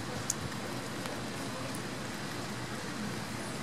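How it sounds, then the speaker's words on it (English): Light drizzle outside a front entrance, a faint, continuous soft hiss of fine rain with a couple of tiny tick-like drops, no voices present. "It's just drizzling."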